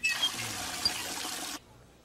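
Water pours steadily from a pump in a puppet show, a continuous splashing trickle that cuts off abruptly after about a second and a half.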